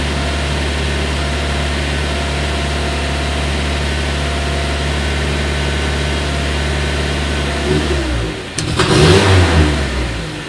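A carburetor car engine fitted with LPG gas equipment revs hard under a pressed throttle, a loud sustained drone that suddenly drops away and then surges back briefly near the end.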